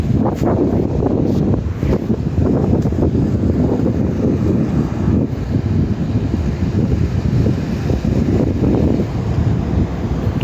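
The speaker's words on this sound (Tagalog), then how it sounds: "lakas ng hangin, grabe yung hangin" Loud, steady wind roars and buffets against the microphone on a rooftop throughout, a constant rough rumble with no speech.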